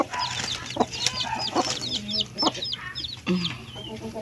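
A hen clucks repeatedly among newly hatched chicks, their high, thin peeping chirps scattered throughout, with a short louder cluck or squawk near the end, set against steady farmyard background noise.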